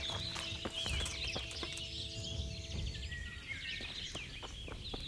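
Horse hooves clip-clopping in the Kingdom Come: Deliverance video game, a steady series of sharp, distinct hoof strikes at a walking rhythm over faint outdoor ambience with birdsong, fairly quiet and without talk.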